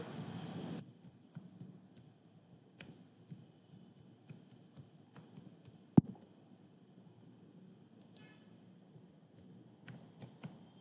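Scattered light clicks of a computer keyboard as a username and password are typed, sparse irregular keystrokes with one sharper tap, faint and close with no talk.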